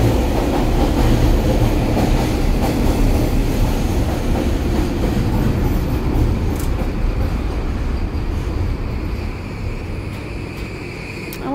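A Vancouver SkyTrain runs along elevated rails with a loud, continuous rumble and rushing roar, faint rhythmic clacks and light squeals riding on top, close and unbroken throughout with no voices.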